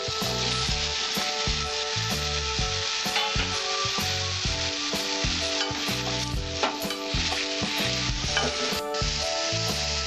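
Green chilli and papaya fry in a pan with a dense, continuous sizzle, while a spoon knocks and scrapes in quick regular strokes throughout, close and steady with no speech.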